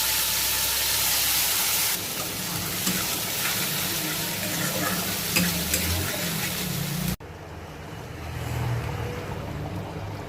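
Whole garam masala and mustard seeds sizzle in hot oil with a continuous bright crackling hiss, close and loud, which drops abruptly to a quieter sizzle near the end.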